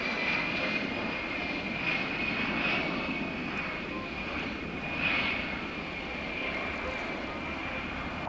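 A propeller aircraft flies low and slow in an airshow demonstration at RAF Abingdon in 1990, its engine drone steady and fairly loud throughout with slight swells in volume.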